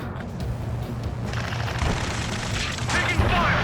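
Rapid gunfire and explosions in the Ace Combat 7 video game during a ground skirmish near a gantry crane: a dense, continuous fusillade of shots and booms under urgent shouted radio voices.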